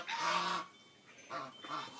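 Geese honk nearby, one long nasal call followed by two shorter ones.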